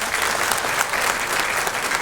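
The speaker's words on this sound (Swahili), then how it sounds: "Asa tupige makofi tafadhali" Audience applause at a public event where a wife is introduced before a crowd, steady dense clapping filling the whole stretch with no pauses.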